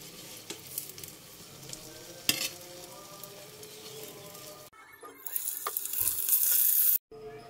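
Eggplant pieces being fried and stirred in hot oil in a pan, with a continuous sizzle broken by scraping stir strokes and a sharp clatter, then a brief louder, brighter hissing burst near the end.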